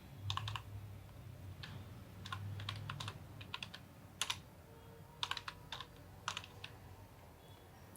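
Keys clatter on a computer keyboard while text is entered into a Microsoft Excel spreadsheet: close, quiet clicks arriving in short irregular bursts and single taps over a low room hum.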